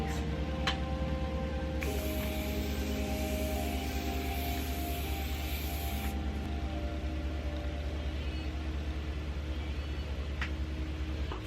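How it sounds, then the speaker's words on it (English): A long hiss of setting spray misted onto a face, about four seconds long, over a steady low background hum. "Okay, then I'm gonna spray it on my face."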